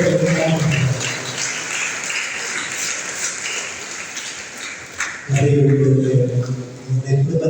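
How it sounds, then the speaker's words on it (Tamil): A church congregation claps together at a Sunday Tamil Mass, steady dense applause filling the room, with a voice speaking over the clapping at the start and again near the end. "ஒரு பெரிய கைத்தட்டல் கொடுப்போம்."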